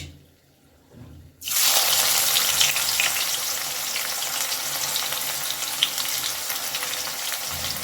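Chopped onions dropped into hot oil with dried red chillies for a meat curry, a sudden loud sizzle that bursts in after a quiet moment and holds as a steady, close frying hiss.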